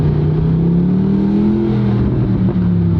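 A supercar's exhaust burbles and rumbles up close as the engine is revved. The low, throaty note swells and dips unevenly over a few seconds, with no talk.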